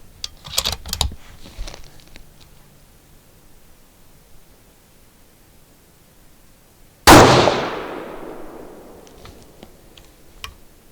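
A single loud rifle shot from a precision rifle fitted with a Schmidt & Bender PMII scope, a sharp blast with a long decaying echo, preceded and followed by quiet handling clicks.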